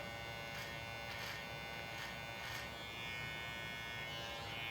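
An electric hair clipper fitted with a 1.5 guard trims leftover hair along the lip during a beard trim, buzzing steadily and close, with a few brief louder bursts as it passes over the hair.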